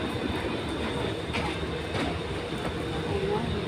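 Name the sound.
MRT train ride to the airport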